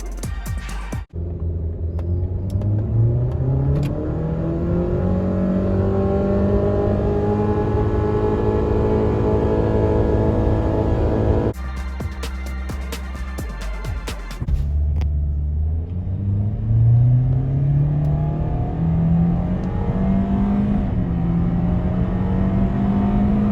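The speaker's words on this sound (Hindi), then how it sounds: "ज़ीरो टू 100 स्पीड टेस्ट की अगर बात करें तो 0 to 100 में Grande was a bit faster" A car, either a Honda Civic or a Toyota Corolla Grande, accelerates hard through a 0 to 100 speed test with a loud, close engine roar climbing in pitch. The roar breaks for a gear change, then rises again through the next gear.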